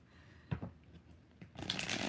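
Tarot cards are shuffled by hand in short bursts: two brief riffles early, a quieter flick later, then a longer, brighter rustling shuffle at the end, close and fairly soft with no talk.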